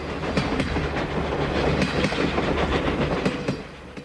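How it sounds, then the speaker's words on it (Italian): A train runs along the rails with a steady rumble and rhythmic clickety-clack of wheels over rail joints, close and fairly loud, with no voices. "Il treno continuò la sua corsa."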